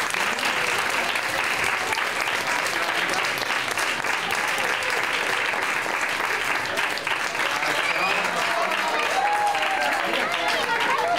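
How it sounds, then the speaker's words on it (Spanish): An audience in San Roque applauds loudly and continuously as the Three Kings enter a reception and key-handing event, dense clapping filling the room with a voice faintly heard in the crowd. "Pues vamos a aplaudir muy fuerte,"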